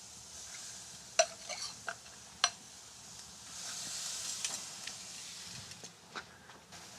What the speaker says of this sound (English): we're going to let that skin crisp up